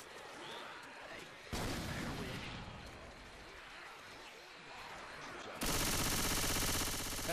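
Co-op Left 4 Dead 2 gameplay with sustained gunfire, a dense, continuous rattle of shots that swells louder midway and again near the end, with players' voices mixed in.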